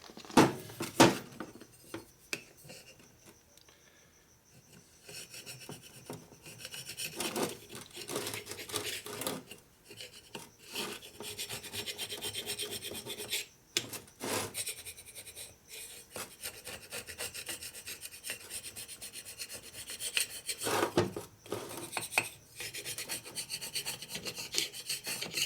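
Steady rasping and rubbing as a pulled cylinder stud on an S&S 113ci Evo Harley motor is cut down flush to the aluminum, continuous scraping strokes with brief pauses, close and fairly loud, no talk.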